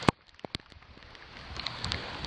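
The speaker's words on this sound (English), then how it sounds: "the rain isn't particularly cold" Rain falls steadily outdoors on a warm day during a harvest, a soft close patter with a few louder drops early on and no voices.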